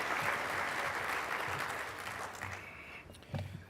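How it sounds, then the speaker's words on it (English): Audience applause for long-standing partner companies at a mayors and business leaders plenary breakfast, a steady broad wash of clapping that slowly thins and fades toward the end, with a few closer claps. "So let's give a round of applause, please,"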